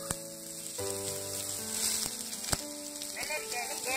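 Steady hissing sizzle of cucumber hitting hot oil, with a few sharp clicks and crackles over a constant frying wash and a faint tonal hum.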